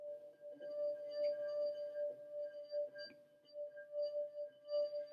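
A wine glass partly filled with water sings as its rim is rubbed, giving a sustained pure ringing tone that swells and fades in soft pulses, quiet and close, with no voices.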